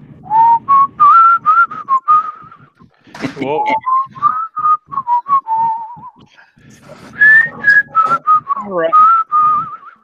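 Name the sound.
human whistling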